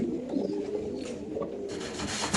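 Racer pigeons kept in cages at a pigeon farm give soft, low coos against a busy background hiss, steady and fairly near.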